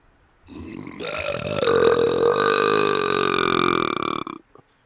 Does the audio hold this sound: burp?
yes